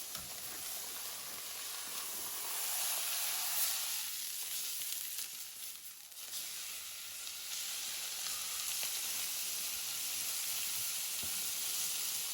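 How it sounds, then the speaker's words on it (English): A big piece of beef turned over and searing in a hot pan, loud steady sizzling and hissing with a short dip as the meat is flipped, then continuing evenly. "I will turn the meat on the other side, and you will hear it sears perfectly."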